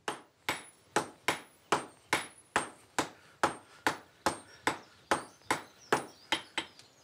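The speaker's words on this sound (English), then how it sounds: "Peter and Martin will hammer the iron flat and then bend it at four corners, making a stirrup shape." Blacksmiths hammer iron flat with around eighteen sharp, ringing metallic strikes in a steady rhythm, each one loud and close with a brief decay, the blows coming slightly faster toward the end.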